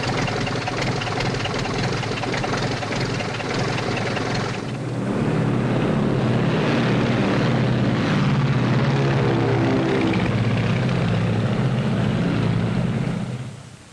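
A propeller airplane in a 1939 aviation film drones loudly and steadily throughout, its engine tone swelling slightly midway before cutting off abruptly.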